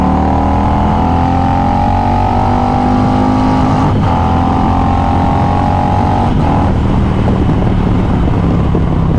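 A 2020 Harley-Davidson Road Glide Special with a 128-inch big bore kit revs hard and close. The loud V-twin rumble climbs steadily toward about 6,500 RPM, dips briefly and rises again without a break.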